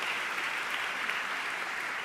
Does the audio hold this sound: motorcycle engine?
no